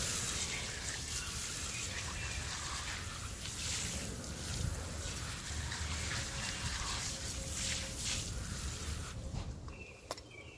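Water sprays and rinses down over a car tire and rim from top to bottom, a fairly quiet, continuous splashing trickle that cuts off near the end.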